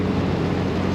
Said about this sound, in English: great little exhaust note out the back.